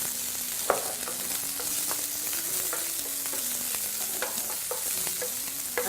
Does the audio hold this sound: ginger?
yes